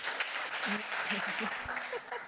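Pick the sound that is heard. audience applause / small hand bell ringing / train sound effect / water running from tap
audience applause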